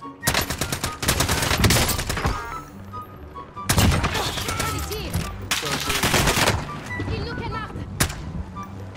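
Nail gun firing in the Warzone video game, loud rapid bursts of sharp repeated shots in several separate volleys with brief pauses between them.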